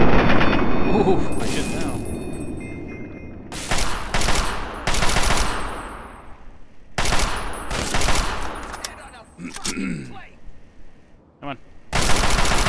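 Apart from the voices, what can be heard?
gunfire in the video game Fallout 3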